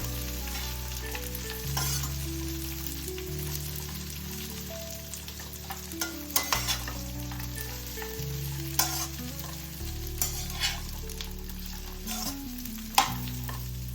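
Dry fruits including figs roasting in a pan, a soft continuous sizzle under the scrape and clatter of steady stirring, close and fairly quiet with a low hum in the background and no talk.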